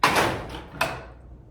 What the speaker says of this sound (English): Soft close drawers, like the cabinet drawers my wife wishes I would buy because I can't stop slamming drawers.